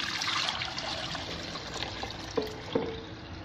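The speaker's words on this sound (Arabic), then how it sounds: "عندي 2 لتر ديال الحليب دافي، ها هو" Warm milk pours from a container in a home kitchen, a soft, steady trickling stream with a couple of small knocks near the end, faint and close.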